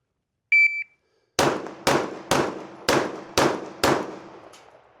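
Six sharp Glock Gen 5 pistol shots crack out in quick succession during a timed shooting run, each loud and close with a short ringing decay, following a brief electronic timer beep.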